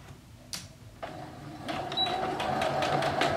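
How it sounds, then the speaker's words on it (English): Sewing machine running a seam on fabric, a steady mechanical whir that builds after a couple of soft clicks and continues close and alone. "you're gonna start sewing at that second pin"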